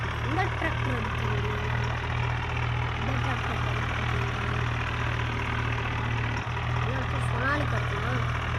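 A tractor engine idles with a steady low rumble throughout, while a person talks over it.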